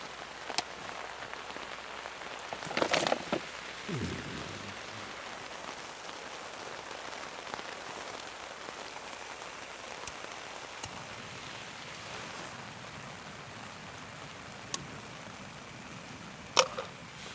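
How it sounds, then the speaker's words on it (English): Steady rain patters on a surface outdoors in the UK in the morning throughout, a dense, continuous hiss with a few louder knocks and clatters nearby. "I hope you can hear me over this rain."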